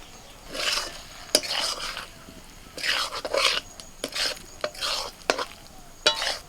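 Rice being stirred and scraped in a pan as fried eggs are folded into Schezwan rice, with repeated short metallic scrapes and clanks over a light sizzle, close and fairly loud, no talking.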